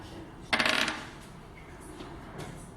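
Dice rolled during a classroom carbon cycle activity: a brief burst of hard clattering as they tumble and settle, followed by faint rattles in a quiet room.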